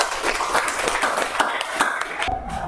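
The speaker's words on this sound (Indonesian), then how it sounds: "Tepuk tangan untuk kelompok 6" Students in a classroom clap for group six, a quick scattering of sharp handclaps from a modest group, uneven and close, with a brief murmur of voices near the end.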